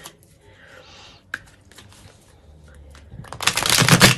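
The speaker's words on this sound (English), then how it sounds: "bear with me on the shuffling" A brand-new, stiff and slightly sticky deck of playing cards being shuffled close up, with quiet handling and a sharp snap early on, then a loud riffling burst of cards toward the end.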